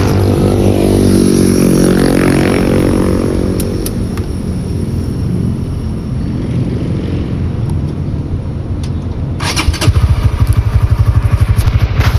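A Honda Winner X 150 motorcycle engine idles steadily up close, a loud continuous rumble that briefly revs and sharpens near the end, with no talking.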